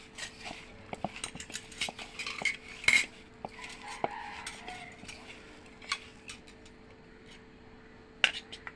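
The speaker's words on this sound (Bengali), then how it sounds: "এখন আমি এগুলোকে ভালো করে মাখাতে শুরু করছি দেখুন কিভাবে মাখাচ্ছি" Carrots and spices being hand-mixed in a bowl for a shrimp fry, giving soft squelchy mixing with scattered sharp clicks and clinks of utensils against the dish, close and fairly quiet with no talking.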